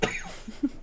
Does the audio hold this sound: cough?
yes